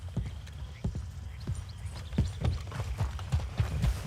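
Horse hooves clip-clopping at a steady walking rhythm in Red Dead Redemption 2, close and distinct, with a voice speaking briefly over the steps.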